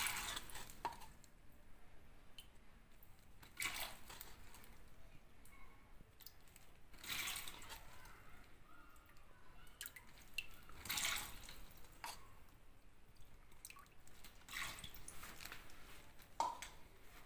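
Water is poured into a plastic container set up for holding fish, giving soft splashing and dripping bursts that come and go, fairly faint and close.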